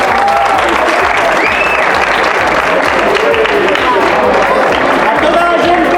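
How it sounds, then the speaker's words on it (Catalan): Loud, sustained applause from a crowd at a castellers' rehearsal hall, dense clapping throughout with voices and cheers mixed in close by. "Un aplaudiment a tots els conxiquians que s'ho han currat un munt."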